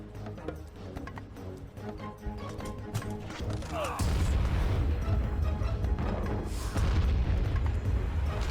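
In a video game, meteors strike and smash the city gates of Troy, heard as a heavy crashing boom that jumps sharply in loudness partway through, then rolls into dense rumbling debris noise beneath louder crashes.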